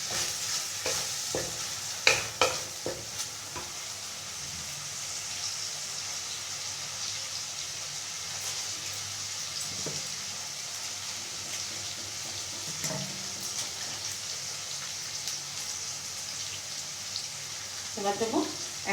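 Chicken being mixed with spices in a pan, a low steady sizzle and hiss with scattered stirring scrapes, louder near the start and end.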